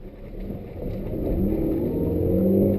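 A 2005 Suzuki Ignis Sport with its 1.5-liter M15A engine revs while driving, the engine note climbing steadily and growing louder from the cabin.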